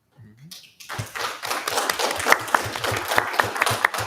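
Audience at a school district board of education meeting breaks into steady applause after a brief quiet start, a dense wash of many hands with sharper individual claps standing out.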